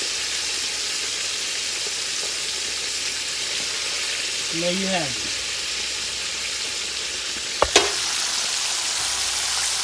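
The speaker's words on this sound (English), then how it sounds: "Frying that chicken." Flour-dredged chicken wings fry in grease in a cast iron skillet, giving a steady, loud sizzle throughout, with a brief spoken remark and a short clink near the end.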